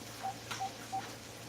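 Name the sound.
dialing a house phone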